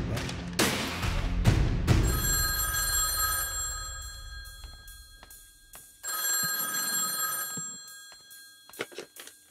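A telephone bell rings loudly in two long, insistent bursts separated by a short gap, preceded by a few heavy thumps.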